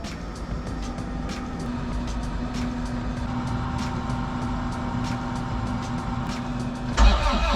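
A 2004 Ford F-350 with the 6.0 Powerstroke diesel, left sitting for weeks in cold weather, ticks steadily before the engine fires abruptly and settles into a loud, close idle.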